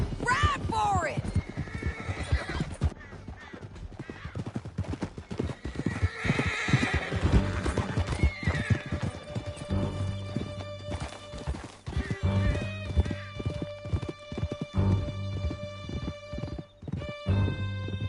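Horses galloping in a video game chase through a canyon, rapid continuous hoofbeats with whinnies, near and loud, while characters shout and talk over them.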